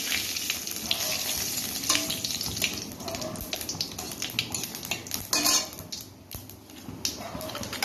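Cumin seeds and bay leaf sizzle loudly in hot mustard oil in a pan, crackling close with metal utensil clinks and scraping mixed through.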